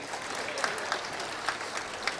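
An audience at a Tamil comedy speech claps steadily, a moderately faint, continuous patter of many hands with a few sharper individual claps standing out, with no talking over it.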